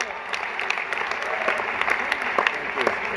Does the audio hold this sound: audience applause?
yes